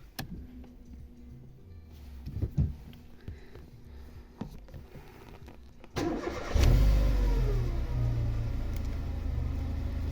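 A 2006 Mercedes-Benz A-Class with 234,700 km on the clock cranks and starts: quiet clicks and small knocks first, then the starter catches and the engine fires with a sharp surge before settling into a steady, fairly loud idle.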